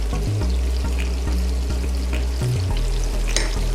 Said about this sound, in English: While these onions and this bacon is just cooking off,